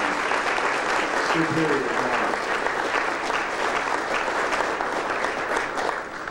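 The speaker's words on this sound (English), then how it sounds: "how about a nice round of applause for Celestial Strings?" Steady audience applause at a veterans' honoring banquet for a string ensemble, continuous clapping filling the room with a brief spoken word partway through.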